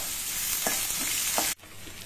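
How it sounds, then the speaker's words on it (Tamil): Sliced onion sautéing in oil in a pan for a Tamil breakfast dish gives a steady sizzle with a couple of stirring scrapes, ending in an abrupt drop. "அதையும் போட்டு வதக்கிக்கலாங்க."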